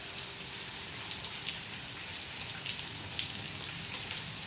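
Heavy rain pouring during a storm in Taunsa, a dense, steady hiss of drops hitting surfaces with occasional louder patters, continuous and fairly close, with no voices.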